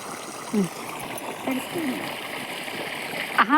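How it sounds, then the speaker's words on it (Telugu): Water gushing out of a farm motor pump outlet on a village field, a steady splashing, gurgling stream under background talk, with a few brief louder splashes. "నీళ్ళు పోతున్నాయి."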